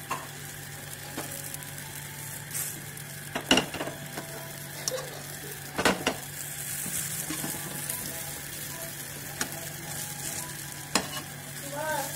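Food frying in a little oil in a pan, turned over as it cooks for a flour-and-egg tiffin snack, with a steady sizzle and occasional stirring clatters, no talking.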